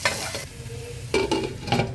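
Chopped green chillies sizzling and frying in hot oil while being stirred, with scraping stir strokes and bursts of crackling spitting that swell and fade through the short stretch, close and fairly loud, no voices.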